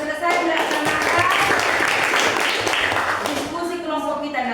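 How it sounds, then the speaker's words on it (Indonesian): A classroom group of students claps together in steady, dense applause, with voices calling out over the clapping. "tepuk tangan dulu untuk kita"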